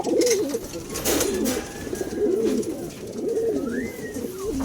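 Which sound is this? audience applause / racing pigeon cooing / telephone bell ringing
racing pigeon cooing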